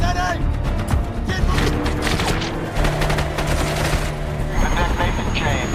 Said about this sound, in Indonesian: Tom dan Tex pergi ke arah pasukan Ruskov, lalu memancing mereka agar mengejar sambil main tembak-tembakan.